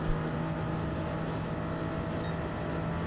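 A Toyota Supra race car in Gran Turismo 7 drones steadily under engine noise with a constant tonal hum, heard close and continuous without speech for about three seconds.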